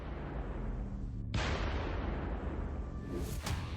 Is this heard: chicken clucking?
no